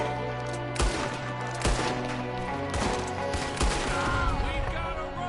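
Gunfire in a cowboy video game, with several sharp, crisp shots that stand out over steady in-game music and ambience, close and loud, spaced irregularly across the stretch.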